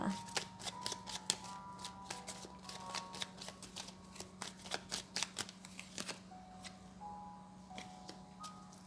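Tarot cards are shuffled close up in a rapid, papery riffle of crisp flicks and slaps, with a voice speaking softly underneath and a faint, steady electronic hum.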